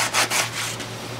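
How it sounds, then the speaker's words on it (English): Rough sandpaper rubbed by hand along the edges of a cut part, giving a few close, steady scratchy strokes with short pauses between them. "Now I'm using some rough sandpaper here just to smooth off in general the edges as I go along."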